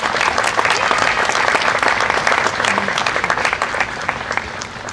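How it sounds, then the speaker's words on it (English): A crowd at a zoo exhibit opening applauds loudly and steadily, with dense clapping that holds for several seconds before easing slightly. "Let's give him a big round of applause."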